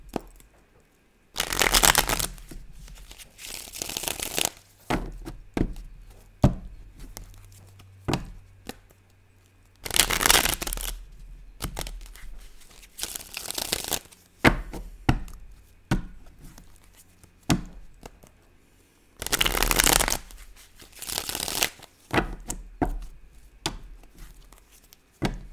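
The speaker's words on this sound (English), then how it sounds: "I was mixing my cards all upside down." Tarot cards are shuffled by hand, giving several loud, close riffling bursts separated by quieter stretches of soft card handling, with no talking.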